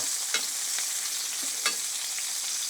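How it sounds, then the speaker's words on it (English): A steak searing in hot beef tallow in a cast iron pan gives a close, steady hiss and sizzle with faint crackles and a few soft spoon-basting taps, and no voice. "baste the top of your steak with the beef tallow"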